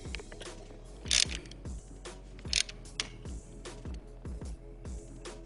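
A crash-protection frame slider being tightened down on a 2021 Aprilia Tuono V4 Factory, close ratcheting clicks from a hand tool in a quick irregular series, with a couple of sharper metallic snaps standing out.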